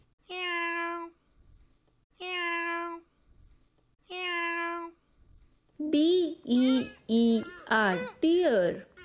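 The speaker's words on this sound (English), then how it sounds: "C-A-T, cat." A cat meows three times at even intervals with identical calls, then gives a faster run of five louder meows that vary in pitch, all clear and close.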